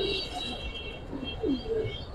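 Giribaz and pangkhi pigeons coo softly in short, low, throaty phrases, several overlapping calls close by against a faint background hum.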